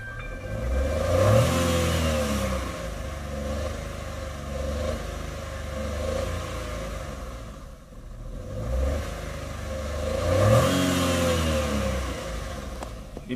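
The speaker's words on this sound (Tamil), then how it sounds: "வண்டி இக்னிஷன் ஆன், வண்டி ஸ்டார்ட். இப்போ ஆர்பிஎம் வைக்கிறோம் பாருங்கள்." A car engine idles and then revs up twice, each rise swelling and easing back to a steady idle, with a brief dip between; close and moderately loud, no talking.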